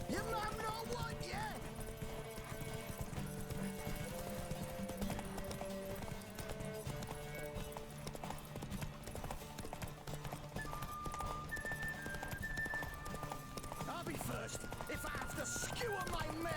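Hooves of Roach, the horse in The Witcher video game, clip-clop steadily at a gallop under music and game sounds, with a player talking over parts of it and a brief whinny possible.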